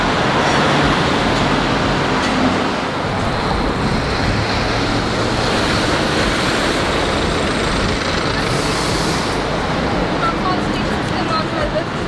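Rail replacement bus heading into the city in Melbourne, heard as a constant loud engine and road roar from inside the vehicle, steady throughout with no clear breaks.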